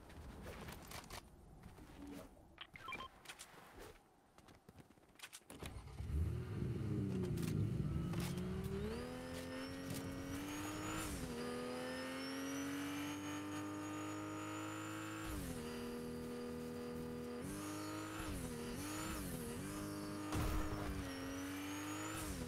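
A car in a video game drives away, its engine revving up through a few gear changes to a sustained, rising drone, fairly faint and with no talk.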